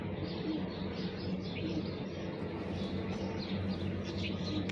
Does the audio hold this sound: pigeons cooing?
yes